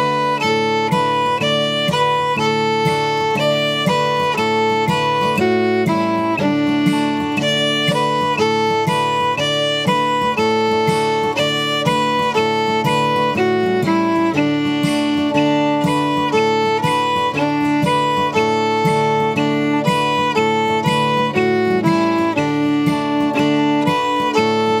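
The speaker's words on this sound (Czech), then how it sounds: "Melodie Shortening Bread, jednoduchá, zní takhle." A fiddle plays the simple Shortnin' Bread melody solo, a lively, steady bluegrass tune with bright bowed notes and double stops that continue without pause throughout.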